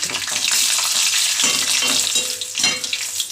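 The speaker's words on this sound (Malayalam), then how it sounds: "എണ്ണ നല്ലപോലെ ചൂടായി വന്നിട്ടുണ്ട് അപ്പോൾ നമുക്ക് പാവയ്ക്ക് അങ്ങോട്ട് ഇട്ട് കൊടുക്കാം" Sliced bitter gourd sizzles and crackles steadily in hot oil for a Kerala-style kondattam, a dense, close frying hiss with a few stirring scrapes breaking through.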